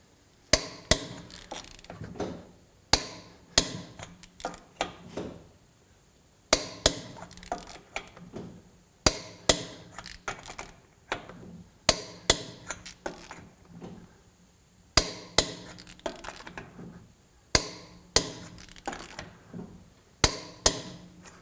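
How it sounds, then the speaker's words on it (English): A torque wrench set around 170 clicks repeatedly while checking bolts after impact wrench testing, sharp metallic ratchet-like clicks in clustered bursts every two to three seconds, close and distinct with no talk. "Let's get the torque wrench out, see how that did."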